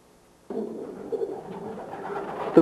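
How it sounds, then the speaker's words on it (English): Pigeons of Belgian origin in a breeding loft, soft cooing that starts suddenly after a quiet half second and carries on in low, murmuring calls with a louder coo at the end. "The breeding loft is for the best part occupied by pigeons of Belgian origin."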